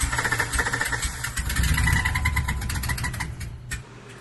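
A 5.7 Hemi truck engine runs rough with leaking exhaust manifolds, giving a loud, uneven rumble that stays close and steady, then eases off slightly near the end, with no talking.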